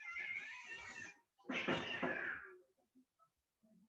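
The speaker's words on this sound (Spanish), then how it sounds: "no sé si se escuchó eso, pero había unos gatos peleando afuera." Cats fighting outdoors, with two bursts of harsh yowling and screeching, the second louder and longer, then scattered faint cries trailing off.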